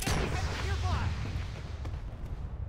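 Enemy flak guns fire in a military video game, a dense rumble of booming artillery-like blasts running steadily under the mix while voices talk over it.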